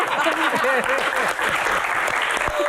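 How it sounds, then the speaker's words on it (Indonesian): Live studio audience clapping at a comedy Q&A show, a brief burst of close, dense applause with voices chattering and laughing over it. "Tepuk tangan."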